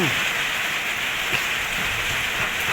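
Steady rain falls at home in a constant broadband hiss with scattered drops, loud and continuous throughout with no talking.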